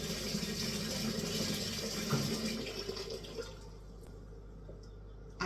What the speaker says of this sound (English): Now I'll run some hot water